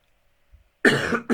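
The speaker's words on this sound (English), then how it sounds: "I just got a cough just right now." A single close, sharp cough breaks a quiet room, followed by the start of another cough.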